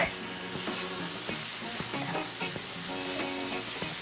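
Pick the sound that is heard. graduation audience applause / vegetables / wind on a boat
vegetables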